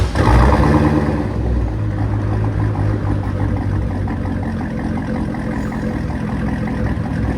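A cammed Chevy Corvette with a 6.0L V8 and straight-piped exhaust runs close by with a loud, deep, continuous rumble that holds fairly steady with a slight swell at the start.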